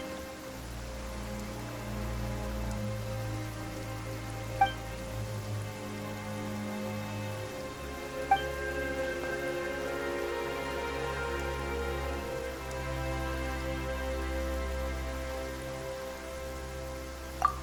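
Steady rain falls in Genshin Impact's Fontaine region, a soft continuous patter over a low ambient game music bed, with a few faint droplet chimes and no speech.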